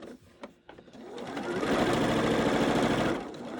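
Sewing machine back stitches the end of a form-fitting fabric mask with elastic, a steady close whirring run of rapid needle strokes after a few soft clicks, stopping abruptly.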